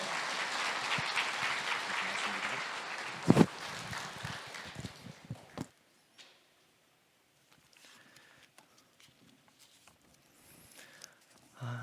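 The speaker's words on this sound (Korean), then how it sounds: "따뜻한 박수로 같이 환영하겠습니다." A church congregation applauds to welcome a visiting missionary speaker, steady clapping filling the room for about five seconds with a sharp burst near the middle, then fading to near silence with faint shuffling.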